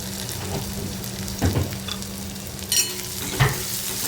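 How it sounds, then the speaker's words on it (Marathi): Tomatoes and onions sautéing in a pan for a dry ivy gourd (tondli) stir-fry, giving a steady close sizzle with a few brief scraping stirs of a spoon at intervals; no one speaks. "आणि टोमॅटोसुद्धा कांद्यासोबत पुन्हा परतून घ्यायचं आहे।"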